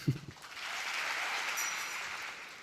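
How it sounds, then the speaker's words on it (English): Applause comes from a large convention audience as a Nigeria-based rabbi is honored. A soft, distant wash of clapping holds steady after a brief voice at the start. "you can clap again for him"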